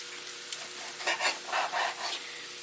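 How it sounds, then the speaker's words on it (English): Knife slicing through rare cooked beef across the grain for a keto stir fry, giving a few soft, close cutting strokes in quick succession, faint and unaccompanied. "I'm going to slice it in small pieces"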